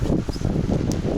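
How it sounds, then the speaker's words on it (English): Wind buffets the microphone at a wild camp in Scotland while rain falls, a steady close broadband rush with gusting low rumble and no talking. "It's windy, it's raining."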